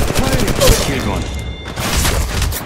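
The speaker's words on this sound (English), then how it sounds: "Taking fire." Rapid gunfire in the mobile battle royale Apex Legends Mobile: a dense, continuous fusillade of close shots and impacts across the whole moment, with game callouts and talk mixed underneath.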